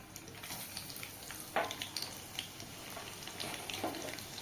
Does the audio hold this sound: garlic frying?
yes